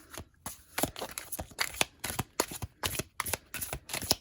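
A deck of tarot cards is shuffled by hand, giving a quick series of about a dozen crisp riffling bursts in an even rhythm. The sound is close and clear, with no talk over it.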